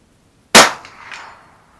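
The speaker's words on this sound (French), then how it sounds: "au son, à 100 mètres, on entend très très bien le gong, ce qui est assez agréable" A single sharp crack of a .22 Long Rifle shot followed by a ringing metallic clang as the bullet strikes a steel gong 100 metres downrange, decaying over about a second, with no voices.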